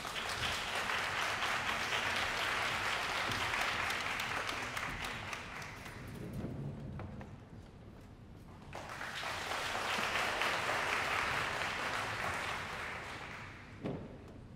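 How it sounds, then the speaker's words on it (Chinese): Concert audience applauding at a saxophone concert, a dense wash of clapping that dips partway through and then swells again to full strength, sustained and fairly close. "等一下要给足更大的掌声哦"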